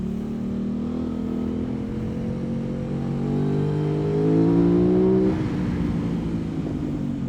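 An Aprilia RS 660 motorcycle engine, 660 cc, revs loud and close, its pitch climbing steadily over several seconds before dropping off near the end.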